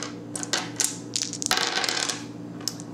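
Plastic dice for the Earth Reborn board game clatter and tumble onto a tabletop, giving a few sharp rattling impacts and then a short rolling scatter before settling, close by and clear.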